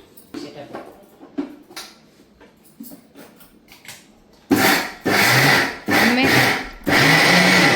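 Mixer grinder coarsely grinding sambar ingredients, running in three or four loud short whirring bursts with brief pauses between, after a stretch of quieter clinks and handling noise with talk.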